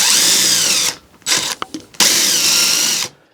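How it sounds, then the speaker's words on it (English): A power drill bores starter holes for screws while a workshop glass-jar organizer is built. Two long, loud, high motor whines under load are split by a short pause with clicks and handling noise. "What I'm going to do is go right on through and get my holes started for the other 2 screws"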